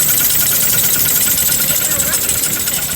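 A Kia Forte engine with a busted ignition idles with a knocking noise, a loud steady rumble with harsh rapid ticking, close up, with a person talking over it.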